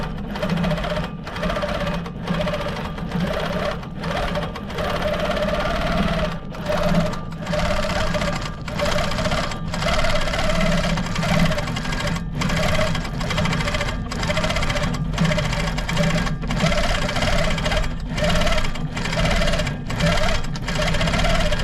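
A sewing machine stitches an insulated tote bag in steady, fast runs of mechanical chatter, pausing briefly at regular intervals, loud and close.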